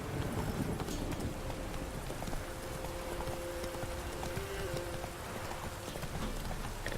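Roach the horse's hooves clip-clop steadily in The Witcher 3, a continuous rhythmic trotting under a dense game soundscape with a faint tonal hum running through it.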